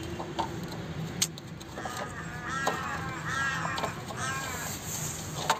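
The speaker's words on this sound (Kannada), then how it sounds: "ನಮ್ಮ ಕಡೆ ಕಾಗೆಗಳು ಕಾ ಕಾ ಅಂತ ಅಂತವೆ, ಇತ್ ಕಡೆ ನೋಡಿ ಹೆಂಗಂತವೆ" Crows caw in Ladakh with hoarse, croaky calls repeated in loose bursts over a quiet outdoor background, fairly close and clear.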